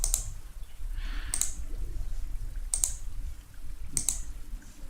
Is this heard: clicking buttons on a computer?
yes